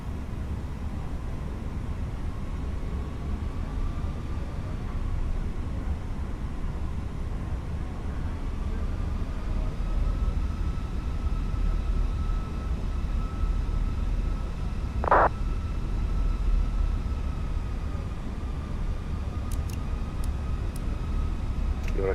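A Fenix A319 airliner in Microsoft Flight Simulator rolls for takeoff from runway 32 at Zurich, a steady broad engine roar with a sustained tonal whine under it, continuous and loud, with a brief sharp tone partway through.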